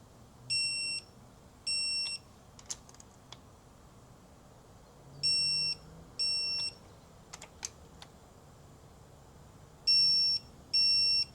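Short pairs of high electronic beeps from a torque wrench sound at intervals, with quiet clicks and faint tool noise between them, during a KTM 390 Enduro motorcycle service.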